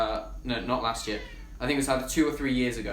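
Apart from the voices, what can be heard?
cat meowing in the background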